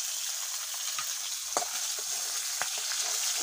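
Fish heads fry in hot oil in a pan, giving a steady close sizzle with a few soft taps and scrapes from a utensil.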